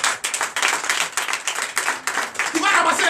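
Church congregation clapping during a Sunday worship service in Comè, Benin, a short burst of dense, close applause mixed with voices.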